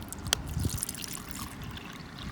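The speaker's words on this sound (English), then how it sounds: "it's steaming hot and ready for pouring in." Steaming hot milk for hot chocolate is poured outdoors at a campfire, making a soft, steady trickle with a faint clink, quiet and close under low background noise.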